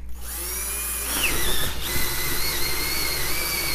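An old Ryobi cordless drill with a large battery whirs steadily, its motor pitch rising and straining briefly as the bit bites in, then running on loudly and continuously.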